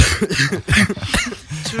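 A few harsh, rough coughs and throat-clearing noises in quick succession, loud and close to the microphone.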